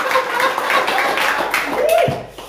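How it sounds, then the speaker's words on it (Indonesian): Church congregation clapping in praise, a short burst of applause mixed with voices and a brief vocal exclamation, fairly loud and close, tapering off after about two seconds. "Sekali lagi tepuk tangan yang mulia buat Tuhan Yesus."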